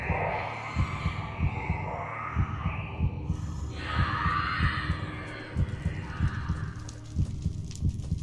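A heartbeat sound effect from Minecraft Decked Out 2 thumps in a low, steady double-beat rhythm throughout, under faint ambient hum and distant eerie noises.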